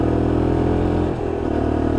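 Lexmoto LXR 125cc Euro 5 motorcycle engine pulling through the gears on a road ride, revving steadily with a brief dip at a gear change before climbing again, close and loud.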